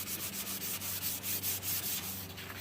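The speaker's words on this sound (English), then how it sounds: "I'm just going to sand the middle area a little bit" Wood for a wine glass holder sanded by hand along the grain, a rhythmic rasping scrub of back-and-forth strokes, close and steady throughout.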